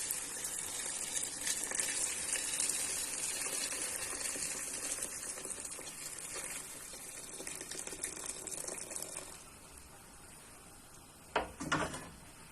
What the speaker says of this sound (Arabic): بعد كده هنزل بالمرقه بقى بتاعت شوربه الجمبري.